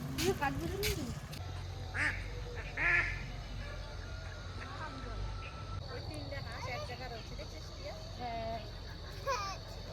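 Ducks brought home from a market quack loudly and repeatedly nearby, with some honking calls mixed in, while people talk over them outdoors.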